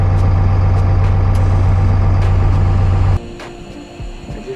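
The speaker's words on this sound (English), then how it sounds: "That's the quick release valve letting air out of the tires." On an LMTV military truck with a central tire inflation system, a quick release valve lets air out of the tires, heard as a loud steady low hiss and rumble that cuts off abruptly, leaving quieter background noise.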